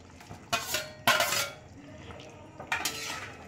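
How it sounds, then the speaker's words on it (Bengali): Prawns tipped into a pot of potatoes boiling for a Bengali chingri curry, giving three short bursts of splashing and clinking from the pot against a quiet simmering background, with no talk. "এবারে আমি মাছটা দিয়ে দিচ্ছি"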